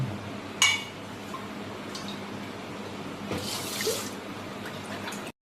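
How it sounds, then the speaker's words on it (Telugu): Rice being rinsed in water in a vessel for curd rice, with a few faint drips, sloshes and light clinks of metal close by in a quiet room. "ఇలా బియ్యం గడుపుకున్నాక"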